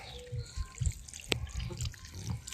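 Saved urine poured from a container onto bindweed in a garden bed, a quiet, uneven liquid trickle and splash with soft outdoor background noise.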